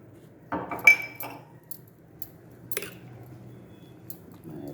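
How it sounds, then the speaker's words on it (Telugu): A metal spoon clinks against a glass while pepper is stirred into fresh juice, with a few bright taps near the start and scattered light scrapes after, close and fairly quiet. "ఇందులో కొద్దిగా పెప్పర్ వేసి కలుపుకుందాము"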